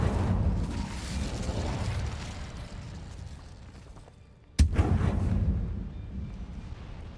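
An Incendio fire spell cast in Hogwarts Legacy gives a sudden loud whoosh-burst midway through, over a rumbling game soundscape that dips into near quiet just before the blast.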